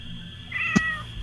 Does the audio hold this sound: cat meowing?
yes